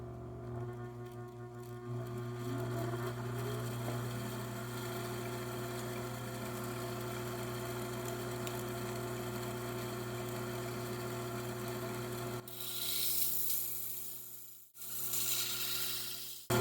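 A faceting machine grinds moldavite on a 600 grit lap, giving a steady low motor hum with a soft rubbing grind that continues for most of the stretch before a brief pause and restart near the end.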